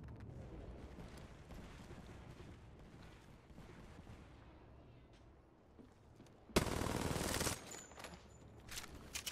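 Gunfire in the video game Apex Legends, distant shots rattling faintly under game ambience before a sudden loud close burst of weapon fire and explosive noise about two-thirds of the way through.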